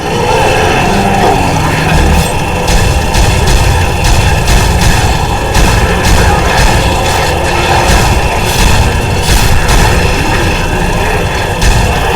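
Gunfire in the video game Shadows of the Damned: loud, repeated shots and booming bursts come in a fast, irregular string over a dense, rumbling game soundtrack.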